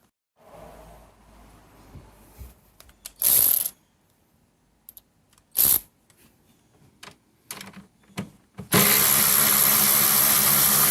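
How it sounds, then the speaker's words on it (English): A socket ratchet loosens the tail light bolts on a Mercedes CLS550, giving a few sharp, close clicking bursts separated by quiet gaps, then a loud, sustained rush of noise at the end. "I'm going to get a socket and start to loosen up the bolts."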